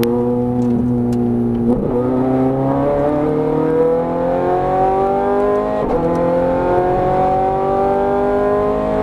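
A Ferrari F430 Scuderia accelerating hard on a racetrack, its engine note climbing steadily through the revs with brief dips at gear changes, loud and close with no talk.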